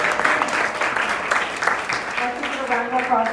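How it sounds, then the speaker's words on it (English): Audience applause at a food program volunteer meeting, steady clapping from a small-to-medium group with voices and talk mixing in over it. "Let's give a round of applause for these brave pioneers."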